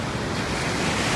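Ocean surf rolling in at the point of Balangan Beach, Bali, a reef break known for left-hand waves; a steady, close, broadband wash of breaking water with some wind noise across the microphone and no voices.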